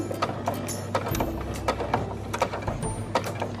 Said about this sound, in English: so start sewing 5 stitches forward